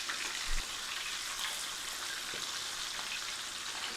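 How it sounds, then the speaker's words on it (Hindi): Fish pieces for curry fry half-done in a pan with a continuous, close crackling sizzle, steady and fairly loud, with a small thump near the start. "अब ये हमने इसको भी फ्राई कर लिया, हाफ़ डन"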